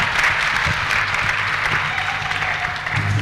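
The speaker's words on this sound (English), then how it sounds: "May we give them a round of applause for the fantastic." An audience at a memorial lecture claps in sustained, dense applause, a steady close patter of many hands filling the whole stretch without pause.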